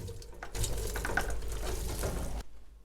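Tap water gushes steadily into a kitchen sink as tripe is rinsed, a close, full rushing stream lasting about two seconds before the faucet shuts off.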